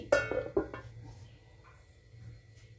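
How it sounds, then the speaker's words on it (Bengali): A lid comes off a wok of heated water: a sharp metallic clank and a few lighter clinks, then a quiet simmering hiss with faint background voice. "জল গরম হয়ে গেছে, কড়াইয়ের ঢাকনা খুলছি।"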